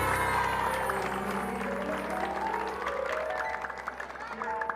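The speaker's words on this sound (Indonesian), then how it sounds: "Tepuk tangan akan membuat Anda bangun dari sana." Hand clapping meant to wake a hypnotized person on a studio comedy variety show, steady broadband claps mixed with crowd noise and background music, fading somewhat toward the end.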